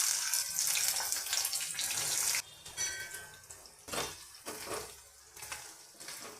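Chopped onions sizzle steadily in hot oil in a pan for prawn curry, a dense, loud hiss that runs continuously with a few brief dips and surges.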